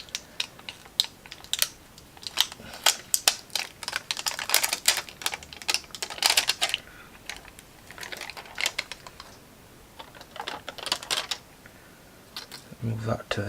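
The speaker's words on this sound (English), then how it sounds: "Let's also take this plastic off here." Plastic film is peeled off a Casio G-Shock GST-B100D steel watch, with crisp crinkling and light clicking that comes in bursts, close up, while someone talks.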